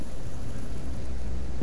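Steady rain falls in STALKER: Shadow of Chernobyl, a dense, even hiss of drops with a low rumble beneath, constant and fairly loud with no talking.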